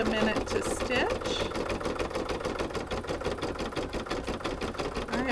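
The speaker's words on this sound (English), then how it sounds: "it'll stitch the decorative border around that" Embroidery machine stitching a decorative border around an in-the-hoop appliqué Easter egg coaster, a steady fast mechanical needle chatter close by and fairly quiet, with a voice talking over it at the start.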